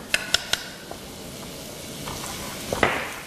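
A soft, steady sizzle of a butter and flour roux in a pot, punctuated at the start by a few quick clinks of a utensil against metal and some scraping later.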